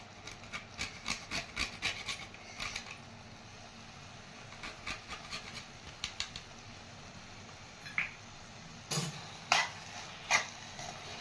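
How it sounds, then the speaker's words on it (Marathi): Nutmeg being grated into a mango murabba mixture: short, dry rubbing and rasping strokes in uneven bursts, close and fairly quiet, with pauses between groups of strokes and no talk. "आता आपण याच्यामध्ये थोडीशी हे जायफळ किसून टाकून घेऊ"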